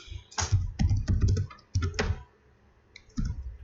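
Typing on a computer keyboard comes through as close, quick bursts of clattering keystrokes separated by a short pause, with no talk.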